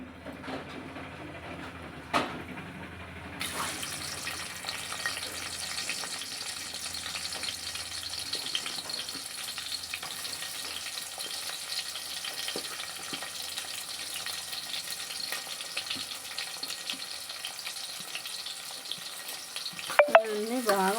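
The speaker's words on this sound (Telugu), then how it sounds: "కుక్కర్ పొయ్యి మీద పెట్టి దాంట్లో ఆయిల్ పోసి చెక్క మొగ్గ వేసేసుకోవాలండి ఆయిల్లో వేసేసుకోవాలి అలా కొంచెం ఫ్రై అవనివ్వాలి తర్వాత ఉల్లిపాయలు వేసేసుకోవాలండి" Oil in a pressure cooker breaks into a steady crackling sizzle once whole spices like cinnamon and cloves, then onions, go into the pan for a drumstick and tripe curry. The sizzle continues close and even, with a few clinks near the end.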